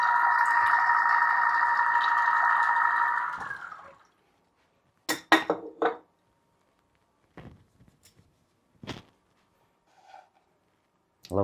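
Lime juice drips from a Smeg citrus juicer on a kitchen counter after a steady motor whir cuts off, leaving a few separate soft drips and taps scattered through the quiet.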